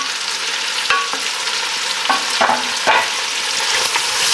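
Onions and jalapeno frying with bacon in a pan over high heat, a steady crackling sizzle with a few sharp stirring clicks and scrapes scattered through, close and alone.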